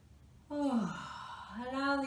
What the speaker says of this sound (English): Sometimes one yawn is not quite enough.